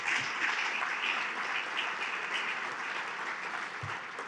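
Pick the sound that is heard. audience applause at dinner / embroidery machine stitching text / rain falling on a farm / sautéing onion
audience applause at dinner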